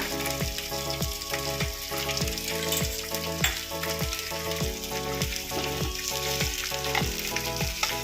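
Mackerel coated and frying in oil on a flat tava, a constant close sizzle with crackling and spatter running throughout, no talk over it.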